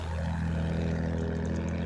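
An enemy plane in Battlefield 1 droning overhead, a steady low propeller-engine hum that stays loud and constant throughout.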